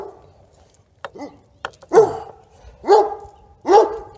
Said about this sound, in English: And if you hear any dogs barking like that, it's just mine.